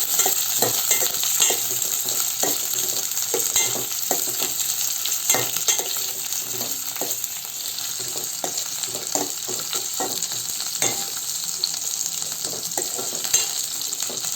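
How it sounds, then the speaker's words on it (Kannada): Capsicum sautés in a hot pan, a steady loud sizzle broken by repeated scraping clicks of a spoon or spatula stirring throughout. "ಇದರ ಜೊತೆಗೇ ಕ್ಯಾಪ್ಸಿಕಮ್, ಅದನ್ನು ಒಂದು 2 ನಿಮಿಷ ಸಾಟೆ ಮಾಡ್ಕೊಳ್ಳೋಣ."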